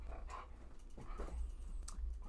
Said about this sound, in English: I don't need my dog barking now.